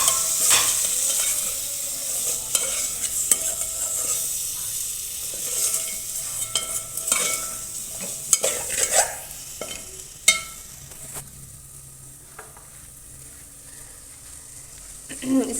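Spices and tomatoes sizzle and fry in a pot while a spoon stirs them repeatedly, scraping and clattering close by. The frying hiss runs steadily, with louder stirring knocks around the middle before it quiets toward the end.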